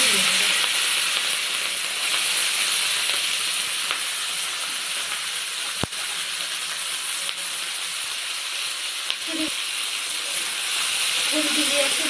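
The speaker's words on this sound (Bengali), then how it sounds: "এবার এই যে মাখানো মাছটা আমি আস্তে আস্তে তেলের মধ্যে দিয়ে দেবো।" Marinated mourola fish frying in hot oil over a low flame gives a continuous close sizzling hiss with a sharp clack partway through and a few bubbling pops, with possible faint voices underneath.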